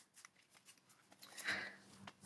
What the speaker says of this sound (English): let me get the cards shuffled